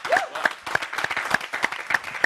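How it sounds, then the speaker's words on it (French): Sparse applause from a small studio audience on a Gabonese television show, separate claps landing roughly every third of a second over a steady tonal background. "On applaudit pour elle parce qu'elle nous rejoint."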